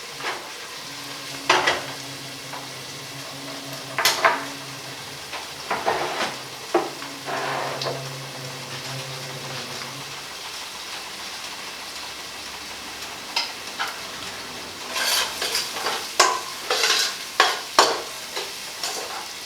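Spices cook in a pot at the start of a beef stew, with a continuous crackling sizzle and scattered clinks and scrapes of stirring, a low steady hum underneath in the first half, and denser spatter near the end.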